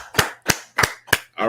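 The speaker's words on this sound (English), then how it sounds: "Let's clap it up." A group claps together in unison, making four sharp, evenly spaced claps nearby, followed by the start of a fifth, with near silence between them.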